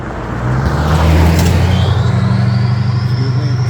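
A car approaches and passes on a rural road, its engine and tyre rumble swelling loud and close, then holding a steady low drone as it goes by, with no voices.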